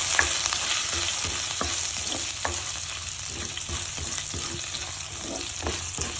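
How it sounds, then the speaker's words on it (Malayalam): Dried red chillies, curry leaves, ginger and green chillies fry in a pan for vegetable upma, a steady loud sizzle with a spoon stirring and scraping through it in soft repeated strokes. "അതിലേക്ക് നമുക്ക് 2 വറ്റൽമുളകും കൂട്ടത്തിൽ കറിവേപ്പില ഇട്ട് ഒന്ന് ഇളക്കി കൊടുക്കാം"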